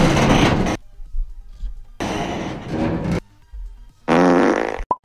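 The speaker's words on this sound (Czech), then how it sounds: "Jak může někdo prdět vagínou?" Three loud, raspy bursts of a fart-like sound from a streamer, each lasting about a second, separated by quiet gaps with faint low thuds.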